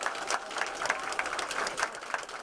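At a Chelsea Clinton event in Centre County, an audience claps in a moderate, fairly rhythmic burst that stays steady for a few seconds.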